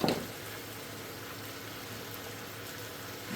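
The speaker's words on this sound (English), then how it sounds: "We'll get our mushrooms in the pan as well, and we will continue to let our vegetables cook down." Vegetables and mushrooms cooking down in a pan for rice with Spanish chorizo and shrimp, a soft, steady hissing sizzle throughout with a brief louder burst at the start.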